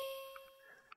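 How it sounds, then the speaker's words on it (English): A soft, quiet vocal pluck sample from Splice, processed with a dimension expander, reverb, OTT, chorus and EQ: bright, bell-like sustained tones with a few short plucked notes rising out of them, heard alone. "So what this is just a vocal pluck"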